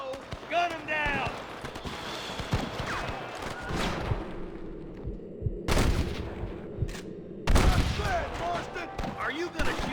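Gunfire in the Red Dead Redemption video game during a shootout with rustlers: repeated sharp gunshots and bursts, some in quick succession, mixed with game music and effects, while voices talk over the action.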